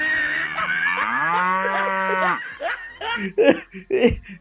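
A cow lets out a long, loud, close moo while being given water; it is followed by short bursts of laughter-like vocal sounds.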